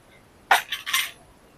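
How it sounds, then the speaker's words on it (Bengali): A metal wok is set down on a stovetop with a short burst of clanking and scraping, then quiet. "মুড়ির নাড়ু বানানোর জন্য চুলোতে আমি কড়াইটা বসিয়ে দিয়েছি"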